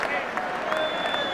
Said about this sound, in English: Tremendous scenes, tremendous appreciation from the crowd